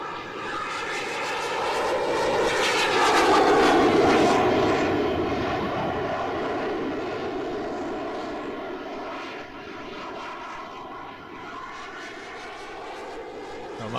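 An RC model airplane flies inverted overhead, its engine giving a continuous buzzing drone that swells louder as it passes closest, then eases back to a steady, more distant hum.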